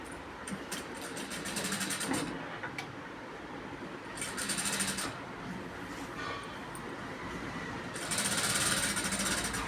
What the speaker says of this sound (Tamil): ரெண்டு ஓரமும் சமமாக வச்சு அடிக்கிறேன்.